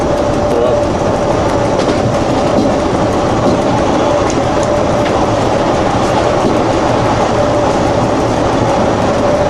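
A passenger train on the Sydney to Bathurst line in Australia rolls steadily along the rails with a continuous rumble and a faint hum, with no breaks throughout.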